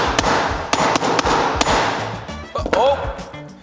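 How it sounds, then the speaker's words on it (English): Several sharp hammer blows strike a hardened phone screen protector in quick succession, loud and close, with a brief ringing clang near the end. "Should we do the hammer test?"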